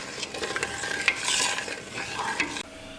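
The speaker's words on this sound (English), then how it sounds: "I'm just gonna give it a little stir" A spoon stirs sugar and salt in a pot of warming pickling liquid for radishes, giving close scraping and swishing strokes with a few sharper clinks, loud and steady, then quieter at the end.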